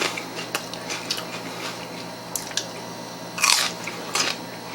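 Crunchy bites and chewing of spicy tuna on celery sticks, a few sharp crisp crunches scattered over quiet moments, with one louder burst near the end, close up and alone.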